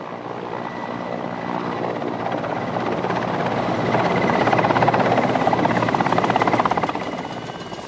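Helicopter in a snowy mountain setting, a continuous rotor-and-engine drone that swells louder in the middle as it approaches, then eases slightly, heard alone.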